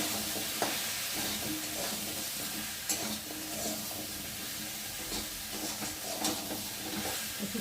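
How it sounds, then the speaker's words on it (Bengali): Ginger paste and ground cumin fry in a pan with a continuous close sizzle and hiss, and irregular scraping stirs and clinks sound over the frying. "জিরের গুঁড়ো দিয়ে দেবো, আদা বাটা একটু ভালো করে নেড়ে দেবো"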